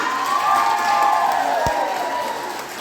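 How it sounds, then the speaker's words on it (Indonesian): Applause and cheering from a crowd of women at a church quiz competition, a continuous wash of clapping and voices with a brief thump near the middle, fairly loud and sustained. "Tepuk tangan untuk grup A."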